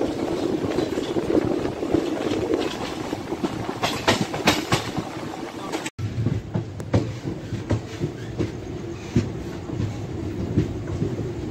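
The Sabari Express rolls into Renigunta Junction with a steady rumble and rhythmic clickety-clack of wheels over rail joints, heard continuously from inside the train.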